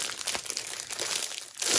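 Close, loud crinkling of a plastic bag holding a diamond painting kit, irregular crackly bursts of rustling as it is handled, with no talking.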